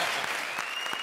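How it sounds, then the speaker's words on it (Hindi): Studio audience of a television comedy show applauding, a brief, even wash of many hands clapping heard from a distance. "अब इसके लिए भी तालियां हो जाए।"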